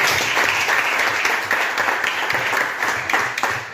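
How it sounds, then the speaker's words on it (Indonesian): Students in an Indonesian mathematics class applaud together, a loud continuous round of close clapping that holds steady for a few seconds without speech. "Tepuk tangan dulu, tepuk tangan."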